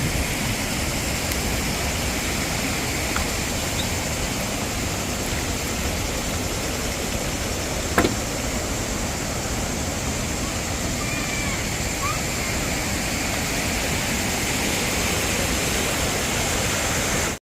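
Steady, loud rush of a waterfall in a river national park in Croatia, a continuous broadband roar that holds evenly throughout with a brief tap near the middle and no clear talk.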